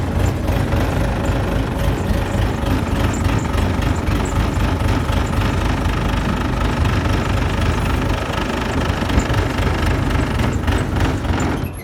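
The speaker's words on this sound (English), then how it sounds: "Let me get over here to the controls on the tractor, and I'll get this thing raised in the air." A tractor engine runs steadily and loudly throughout, a continuous rough mechanical drone at close range, with no voices, while its controls raise a 1987–95 Jeep Wrangler YJ tub into the air.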